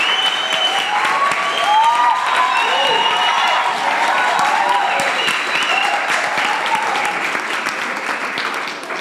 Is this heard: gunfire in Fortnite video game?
no